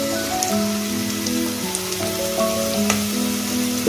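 Onion frying in a pan for a village-style goat head curry, a steady close sizzle with crackling pops, while a sustained tonal hum runs underneath.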